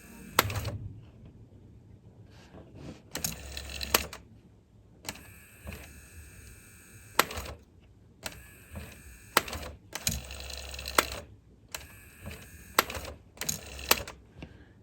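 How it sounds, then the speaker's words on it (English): A Nakamichi 480 cassette deck with stuck pinch roller pivots runs its tape transport in short, irregular bursts of whirring and clattering, separated by near-silent pauses, as if about to chew the tape. "Oh, it was getting ready to eat the tape right there."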